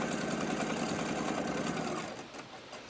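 A sewing machine runs a fast, steady stitching hum while sewing a fabric face mask toward the corner, then slows and quiets near the end as the stitching eases off.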